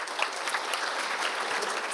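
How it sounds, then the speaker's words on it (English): Steady applause from a forum audience, dense and even throughout with no talking over it. "Give her an applause."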